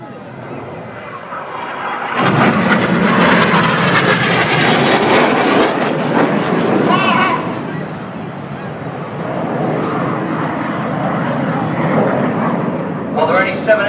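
Red Arrows Synchro pair jets making a pass at the Farnborough International Airshow, a loud building roar that peaks and slowly fades, heard beneath a commentator's public-address voice.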